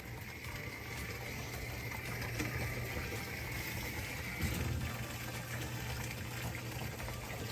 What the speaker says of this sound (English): I'm still gonna pour a little more water.